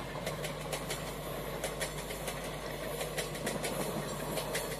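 A WDP4D diesel locomotive hauling an electric locomotive rumbles steadily with a low engine drone, rail noise and repeated clicking wheel beats, continuous and moderately loud with no talk.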